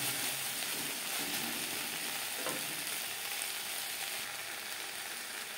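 Chopped spring onions fry and sizzle in a pan over a medium flame, a dense steady crackle with faint stirring scrapes, close and continuous.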